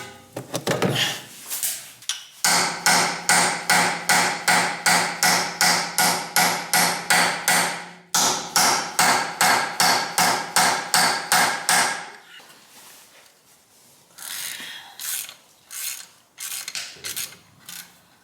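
Loud, rapid hammer blows strike a rear wheel hub on a BMW E90 318d, ringing out in two long rhythmic bursts, followed by scattered lighter knocks and handling noises.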